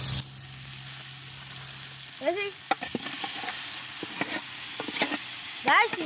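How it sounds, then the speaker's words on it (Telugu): Marinated country chicken, coated in curd, chilli, salt and masalas, sizzles steadily in a pan for biryani, with scraping stirs and clinks of a spoon against the pan scattered over the close frying hiss. "చికెన్ అయితే వేసుకున్నాం"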